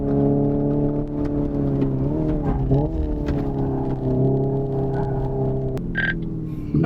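Simulated N e-shift gear sound from a Hyundai Ioniq 5 N electric car under acceleration: a steady, engine-like harmonic drone that holds, dips briefly at a shift, then climbs again, loud and close.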